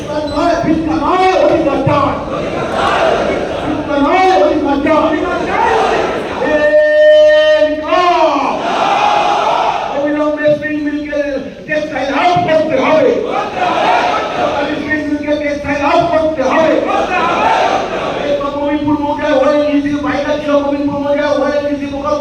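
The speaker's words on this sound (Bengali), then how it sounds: "এখনো কিন্তু চলছে, স্লোগান চলছে" Large crowd chanting slogans in Bengali at a rally, loud rhythmic call-and-response shouts in repeated bursts with a leader's voice over amplified sound, continuing for the whole stretch.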